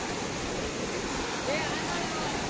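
Rushing water from a waterfall on a hike up Malang Gad, a steady broadband roar with wind buffeting, continuous and fairly loud throughout.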